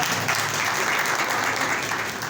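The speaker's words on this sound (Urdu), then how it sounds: "زوردار تالیاں خداوند کے لیے بجا دیں" A church congregation breaks into loud, sustained applause for the Lord, dense clapping from many hands filling the room steadily throughout.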